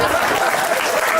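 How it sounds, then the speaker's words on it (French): A live audience at a magic show applauds after a card trick, giving a brief, loud, continuous burst of dense clapping. "Je pense que vous pouvez l'applaudir."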